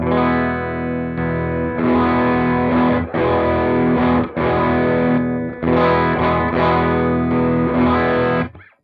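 Distorted electric guitar chords through a Revv Shawn Tubbs Tilt Overdrive pedal with all knobs at noon ring out loud and sustained, slightly muddy, struck in a steady sequence with brief gaps between strums.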